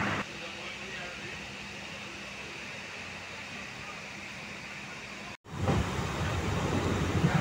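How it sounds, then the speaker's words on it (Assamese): Steady, even rumble and hiss from inside a moving train at night, continuous and fairly loud, with a brief dropout near the end before the noise returns heavier and rougher. "আৰু ট্ৰেইনত আমি বহি গৈ আছোঁ।"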